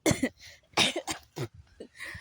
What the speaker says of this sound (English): I coughed and then I breathed it in after coughing